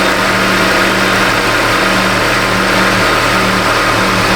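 Honda Civic engine with a missing cam signal, running rough after cranking: a loud, steady close-up drone with an uneven, stumbling pulse and no voices.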